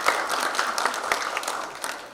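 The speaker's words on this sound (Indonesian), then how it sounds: "Sekali lagi tolong tepuk tangannya buat para leaders." Applause from the audience at a BFSI IT Summit panel discussion in Indonesia, honoring the panel leaders: a short, moderately loud patter of many clapping hands with some sharper individual claps.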